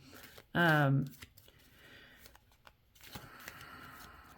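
Tarot cards are shuffled in a brief, loud riffle before going quiet, followed by softer handling as cards are pulled, with a voice talking around them.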